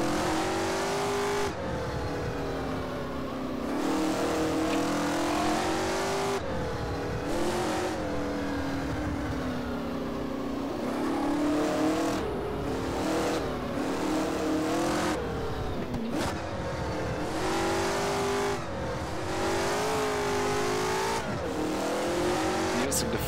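Engine noise from a six-gear race car in the rFactor racing game fills the whole stretch, rising and falling continuously as it revs through the gears and back down on a lap full of corners.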